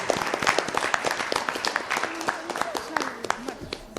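Applause from the audience at a Dakar school quiz competition quarter-final, scattered, fairly faint claps in an uneven rhythm, with a voice speaking over them part of the way.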